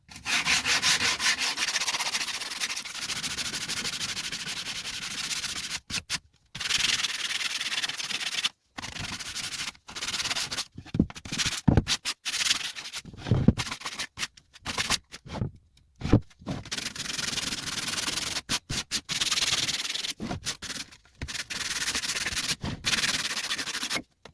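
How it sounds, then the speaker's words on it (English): Coarse 80-grit sandpaper rubs steadily back and forth over wooden pieces in a truck speaker build, a close, continuous rasping broken by short pauses, with no talking. "I'm just going to use a piece of sandpaper, some 80 grit sandpaper, just to smoothen these up a little bit"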